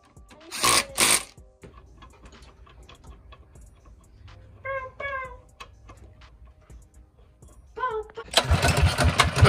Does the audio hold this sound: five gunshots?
no